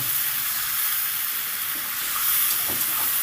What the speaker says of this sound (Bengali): এবার দিয়ে দিচ্ছি কুঁদ্রি আর আলু ভাজাটা মশলার সাথে সুন্দর করে নেড়ে চেড়ে আমি তিন থেকে চার মিনিট এটাকে কষিয়ে নেব